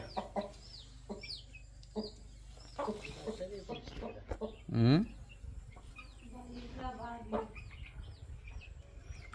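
Hens cluck repeatedly nearby, with one louder squawk midway, over a steady low background hum and some distant voices.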